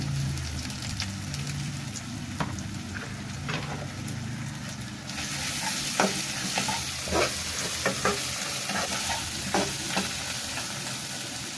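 Ginger paste being stirred into shrimp bhuna frying in a pan, a steady soft sizzle with scattered scraping stir clicks, close and alone.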